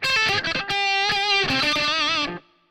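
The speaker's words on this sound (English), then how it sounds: "Let's do some lead on here." Electric guitar lead tone through the Audio Assault Bulldog amp sim, a distorted run of sustained, bending notes with vibrato that plays loud for about two seconds and then cuts off sharply.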